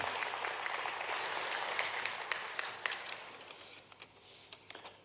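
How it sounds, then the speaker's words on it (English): Applause from the audience at an Indo-French investment summit in Madhya Pradesh welcoming the French ambassador to India, a steady, fairly distant wash of clapping with a few sharper claps standing out, fading slightly toward the end. "Can we again have a huge round of applause to welcome him?"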